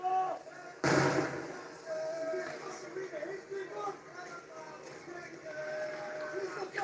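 Fireworks go off during a riot, a sharp loud bang followed by scattered, more distant pops and crackles beneath shouting voices and crowd noise.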